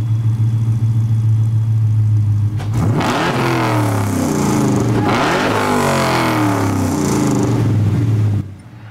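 A loud car engine in the video game Gran Turismo Sport idles, then revs up sharply twice, roaring and whining through the rise before cutting off abruptly.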